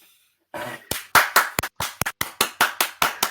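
Sharp hand claps ring out close by, about a dozen in a quick, slightly uneven rhythm after a moment of near silence.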